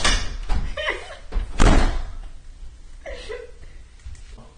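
A door swung shut indoors, giving a couple of heavy thuds with a loud slam in the middle and a lighter knock afterward, with some muffled background noise and no clear speech.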